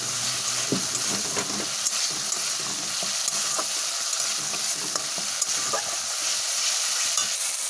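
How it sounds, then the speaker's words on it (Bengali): Tomato paste and spices fry down in a pan with a steady, close sizzle, overlaid by frequent scraping and clinking strokes of a spoon stirring throughout. "টমেটো বাটাটা দিয়ে আরও মিনিট দুই কিনে কষিয়ে নেব"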